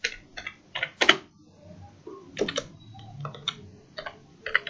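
Someone types a short command on a computer keyboard in a quiet room, with scattered clusters of crisp, close key taps separated by brief pauses.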